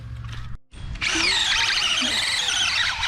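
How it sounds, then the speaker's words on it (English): After a brief pause, a power drill starts up and whines loudly and continuously, close by, as it bores holes into a tree root. "drill holes through this root to try and kind of weaken it"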